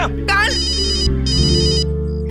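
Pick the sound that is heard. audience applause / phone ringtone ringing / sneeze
phone ringtone ringing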